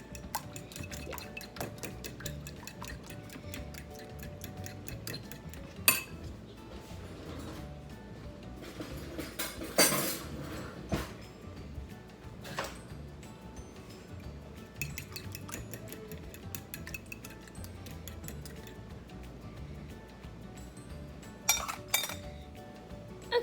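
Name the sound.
beating eggs in a bowl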